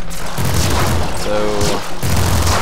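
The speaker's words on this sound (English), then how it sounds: "That was not the best nuke launcher shot I've ever done." A nuke launcher shot in the Nuclear Throne video game lands as heavy booming blasts with gunfire-like bursts and synthetic game tones in the middle, loud and close throughout.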